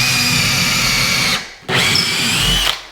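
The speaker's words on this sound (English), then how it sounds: "So now let's drill our first hole" Cordless power drill boring the first hole for a TV wall mount, a loud close whine that runs steadily, cuts out briefly, then spins up again and continues.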